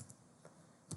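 Computer keyboard keys pressed for a Ctrl+S save shortcut, three soft clicks spread across a second, close and quiet with no talk.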